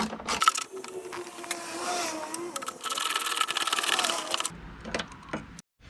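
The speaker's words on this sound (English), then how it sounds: "so we're tightening up these bolts." Bolts on a 1991 Toyota Tercel radiator being tightened with a hand tool, a close, steady run of dense mechanical clicking and whirring that stops abruptly near the end.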